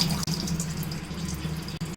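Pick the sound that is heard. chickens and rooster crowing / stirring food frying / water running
water running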